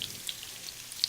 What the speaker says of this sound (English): these sweetbreads are cooking at a nice sizzle